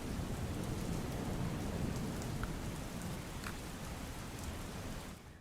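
Heavy rain pours down in Ahmedabad, a steady dense roar of downpour on surfaces that continues unbroken and close, with a few brief louder drops, then fades out at the end.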